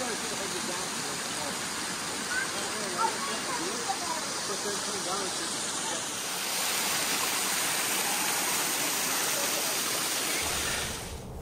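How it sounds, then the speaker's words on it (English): Waterfall found on a houseboat vacation, a steady broad rushing roar of falling water that swells louder midway, with faint voices underneath. "We did find a waterfall."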